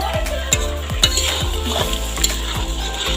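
Duck meat fries in a pan, a steady sizzle broken by regular scraping stirs about every half second, with light clinks of the utensil against the pan.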